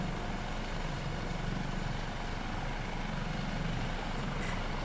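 HH-65A Dolphin helicopter engine in Microsoft Flight Simulator 2024, a steady whining, rotor-driven drone holding at a constant moderate level throughout, with no talking.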